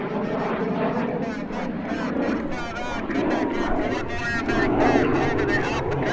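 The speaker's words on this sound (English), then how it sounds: "And here comes the F-86 from the right." F-86 jet warbird with a J-47 straight turbojet engine making a flyby at the Terre Haute airshow, a steady roaring jet rumble that swells slightly, with a narrator talking over it.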